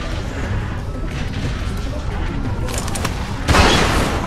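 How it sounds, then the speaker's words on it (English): A single loud gunshot bursts out near the end in The Walking Dead: 400 Days, preceded by tense rumbling and scuffling noise with a few sharp cracks. "Fire the fucking gun!"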